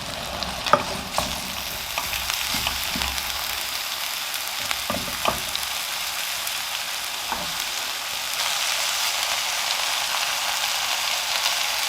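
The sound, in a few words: cauliflower being stirred and fried in oil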